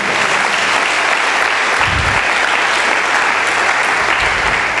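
Steady, dense applause from a church congregation praising God, filling the space loudly and continuously without any voices on top.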